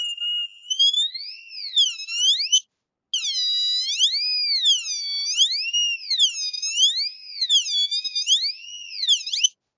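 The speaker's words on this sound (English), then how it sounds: "same principles, same circuitry, output on a buzzer, and input of the a 9-volt battery" Electronic buzzer of a light-sensing circuit powered by a 9-volt battery, giving a shrill warbling tone that sweeps up and down in a repeating pattern and stops briefly once, loud and close with no talking.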